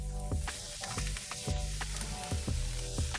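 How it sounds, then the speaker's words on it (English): Beans and olive-oiled vegetables sizzle in a frying pan while being stirred, a continuous close hiss broken by repeated soft scraping thumps of a utensil against the pan. "Now I'm gonna go ahead and put my beans in. Mix this together like this."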